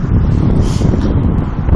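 Strong wind buffets the microphone in a constant low roar, gusting and rumbling throughout with no other sounds standing out.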